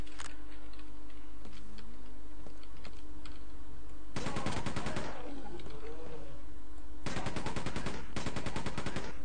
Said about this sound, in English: The machine gun didn't do too much damage to him.